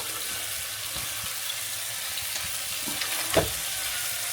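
Steaks fry in melted butter in a pot, giving a low, even sizzle with a few soft stirs and one louder clunk near the end.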